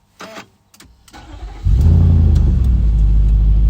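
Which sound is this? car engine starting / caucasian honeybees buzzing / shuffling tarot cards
car engine starting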